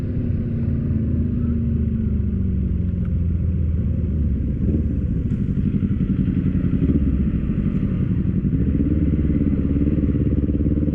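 A steady engine rumble from a Peugeot Django Caferacer 150i scooter runs throughout, loud and close, like a motor idling or cruising nearby with a constant low drone.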